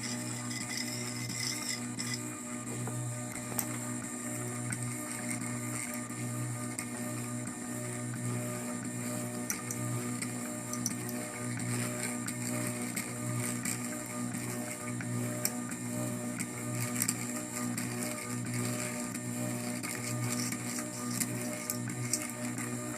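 A 3D printed coil winding jig runs steadily, giving a continuous mechanical whir with a faint repeating ticking rhythm from its motor and gears, with no talking.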